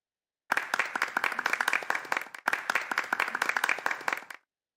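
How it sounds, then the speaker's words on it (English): A round of applause rises at a Buddhist community meditation gathering, steady clapping from a modest group that runs about two seconds, breaks briefly, then resumes before stopping abruptly. "Let's give a round of applause for entity."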